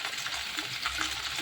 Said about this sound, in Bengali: দিয়ে ভালো করে নেড়ে চাপা দিয়ে দেবো।